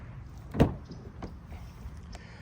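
The door of a 2023 Mazda CX-9 Touring Plus SUV opens with a single soft latch click and thunk, close up and fairly quiet, followed by faint handling sounds.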